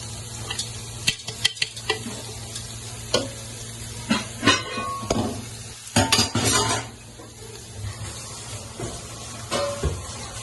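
A handful of small onions frying in coconut oil, crackling and sizzling steadily while a utensil clinks and scrapes against the pan in irregular bursts, close up, without talk.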